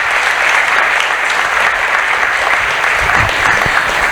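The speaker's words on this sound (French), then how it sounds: "vous pouvez l'applaudir absolument" Steady, loud applause from the audience at a political rally in Mulhouse, dense clapping sustained evenly throughout with no speech over it.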